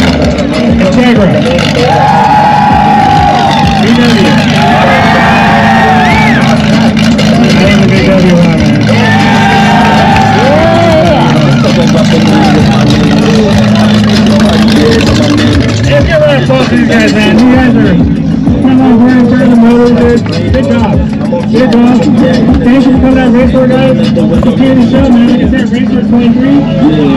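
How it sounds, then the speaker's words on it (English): Loud, sustained engine revving rises and falls at an exhaust competition at a Raceworz car event in Sacramento, with a cheering, shouting crowd and chatter around it throughout. "So that was the exhaust competition."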